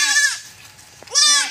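Two loud, close goat bleats, one at the start and one near the end, separated by a brief quiet gap with a faint tap, no talking.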